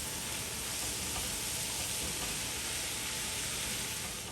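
Spinach mixed with white onion is stirred in a pot, giving a steady close sizzle with soft scraping throughout and no speech.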